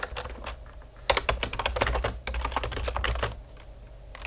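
Rapid keystrokes on a computer keyboard as text is typed into a Microsoft Word poster, close-miked with dense irregular clicks and a brief pause midway.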